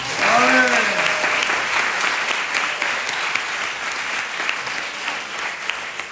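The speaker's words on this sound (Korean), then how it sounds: "주님의 이름으로 박수 올려드립니다" A church congregation at a university fasting revival gathering breaks into dense, sustained applause. A voice is briefly heard at the start, and the clapping then continues evenly throughout.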